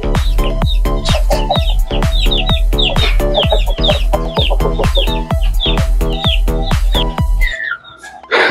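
An Aseel desi rooster calls in a rapid, loud, close run of repeated harsh clucks and squawks, steady for several seconds before breaking off.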